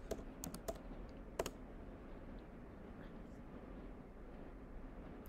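Someone types a web search on a computer keyboard. A handful of quiet, sharp keystrokes come in the first second and a half, then fade into low background noise.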